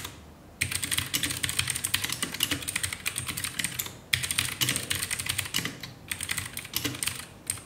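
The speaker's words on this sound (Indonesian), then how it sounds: "Kira-kira untuk blue switch-nya ya masih lumayan tactile, clicky juga suaranya." Fast, continuous typing on a mechanical keyboard with Gateron blue clicky switches: dense, crisp key clicks close up, with two brief pauses between bursts.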